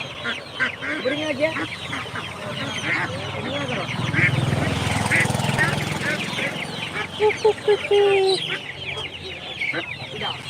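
Turkeys, fancy chickens and silky chickens crowded in a vehicle at a market cluck, squawk and honk in a dense, overlapping close chorus, with people talking faintly in the background.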